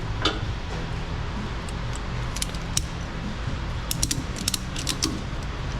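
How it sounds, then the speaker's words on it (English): A ratchet strap is cranked tight onto a cross member while recovering a damaged FJ Cruiser 4x4 off-road, giving a run of quick, close clicking ratchet strokes in short bursts with creaks, over steady low background rumble. "I'll just ratchet it back here to like this cross member thing"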